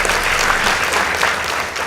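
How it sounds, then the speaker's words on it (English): Audience applause for the Kisumu Boys High School team at a school debate competition, a dense, loud, continuous wash of many hands clapping with no talk over it. "Please give them a round of applause."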